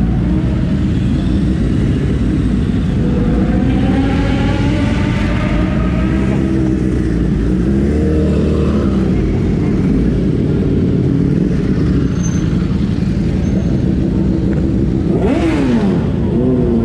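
A motorcycle engine runs steadily nearby, revving up and down with rising and falling pitch, and one sharp rev sweeps upward near the end.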